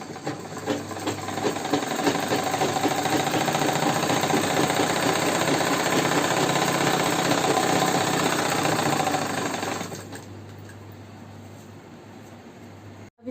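Electric sewing machine running continuously while stitching a Patiala salwar's panels onto the flared gather fabric, a steady loud mechanical whir for about ten seconds that then drops to a quieter hum.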